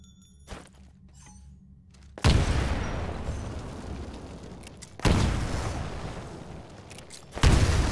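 Grenades exploding in the Titanfall video game: three heavy, close explosions a few seconds apart, each a sudden loud boom that fades into a long rumbling decay.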